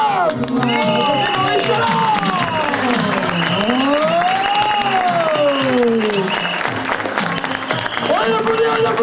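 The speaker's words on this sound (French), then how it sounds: "On applaudit." A crowd at a car rally podium ceremony applauds steadily and loudly with some cheering, while a voice talks over the clapping and a tonal, sliding sound runs throughout.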